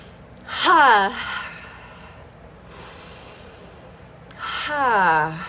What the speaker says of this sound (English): Take a nice deep breath now.